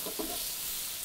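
Diced onions sweat gently in a pan with a soft, steady sizzle and a couple of brief stirring sounds near the start, and no one speaking.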